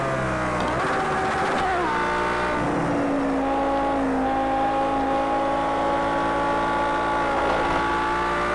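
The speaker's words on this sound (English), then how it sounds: "the nice good old V12 power right there. Kicking in the full effect as we fly down the front straight" A V12 race car engine accelerates hard down a track's front straight, a loud, close, rising roar that climbs steadily through the revs with no talk over it.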